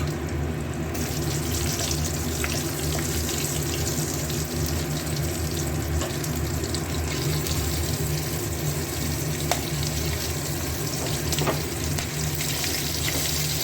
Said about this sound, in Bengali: এবার একটু ভাজা হোক।